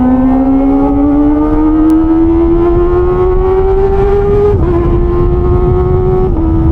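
A Kawasaki ZX25R with an inline-four engine revs at night, giving a loud, close, high-pitched whine that climbs steadily for several seconds, dips briefly, then holds high. There is no talk.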